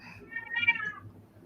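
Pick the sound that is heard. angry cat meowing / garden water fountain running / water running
angry cat meowing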